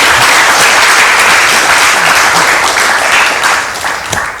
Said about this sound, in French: Applaudissements pour main d'œuvre.